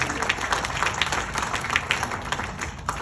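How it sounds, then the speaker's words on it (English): Audience clapping during a product demonstration, a crowd's applause with distinct individual claps standing out, steady and fairly close, continuing throughout. "let's give Susan a big round of applause"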